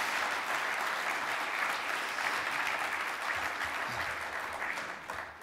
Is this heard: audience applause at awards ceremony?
yes